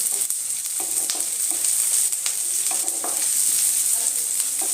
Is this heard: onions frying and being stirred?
yes